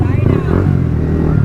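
Four motorbikes on a Sunday group ride roll along a dusty road, their engines droning steadily and close throughout, with voices talking over the rumble.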